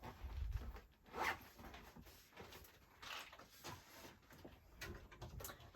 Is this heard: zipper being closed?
yes